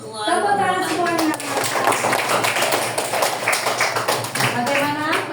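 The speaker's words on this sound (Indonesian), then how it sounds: "Tepuk tangan" A group of children clap their hands together in a quick, uneven patter that runs steadily and close by, with voices talking over it.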